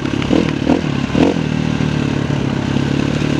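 An enduro motorcycle riding in the mountains, its mid-pitched engine droning close by with a few quick throttle blips and rattles early on, then settling into a steady hum.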